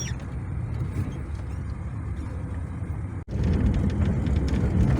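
A car driving along a slippery, snow-covered country road between fields, with a steady low rumble of engine and tyres heard from inside, a brief dropout, then a slightly louder road roar.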